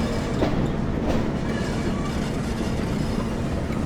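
A train in Train Sim World runs into Blackpool North station with a steady low rumble and faint rhythmic wheel clatter, a continuous drone with no voices.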